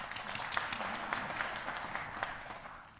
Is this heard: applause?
yes